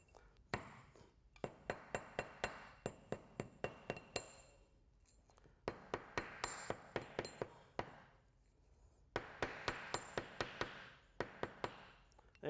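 A hunk of steel struck with a hammer against a sharpening stone, bursts of sharp metallic clinks in quick rhythmic series separated by short pauses, close and clear.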